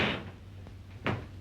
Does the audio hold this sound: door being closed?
yes